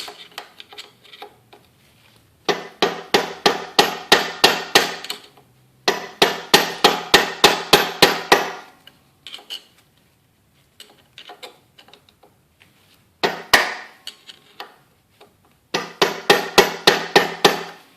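Repeated hammer strikes on an old screwdriver used as a drift to drive out gearbox bearings on a 1995 Enfield Bullet, sharp metallic blows in four quick rhythmic bursts with pauses between, close and loud.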